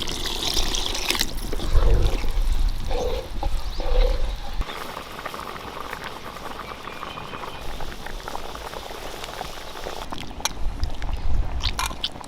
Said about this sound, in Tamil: புளித்தண்ணி சேர்த்துக்கலாம்ப்பா.